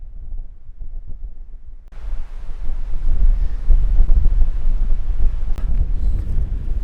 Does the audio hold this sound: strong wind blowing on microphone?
yes